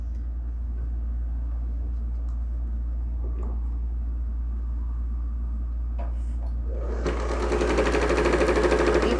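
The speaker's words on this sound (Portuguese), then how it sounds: "E costuro." Sewing machine stitching straight crisscross quilting lines through a layered quilt, a steady low hum that surges into a louder, dense whirr near the end, with no talk.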